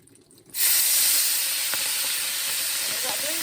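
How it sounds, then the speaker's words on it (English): Collard greens dropped into a hot iron skillet with fatback burst into a loud, steady hiss and sizzle that starts abruptly after a brief quiet moment and holds strong to the end. "start adding our collards over here to the iron skillet"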